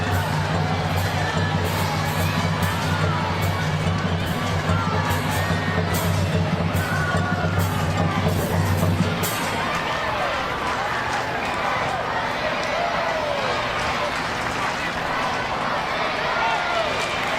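A stadium crowd cheers for the Washington Spirit during a 2018 NWSL women's soccer match against the Portland Thorns, a dense, continuous roar with a commentator talking over it and a low rumble that drops away partway through.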